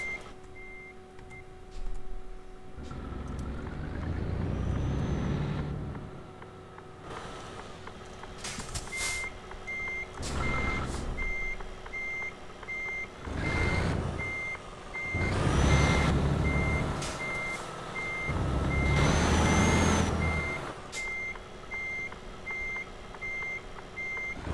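A truck with a steerable-axle trailer backs up, its reversing alarm beeping in a steady repeating rhythm while the engine rumbles and swells in several loud bursts.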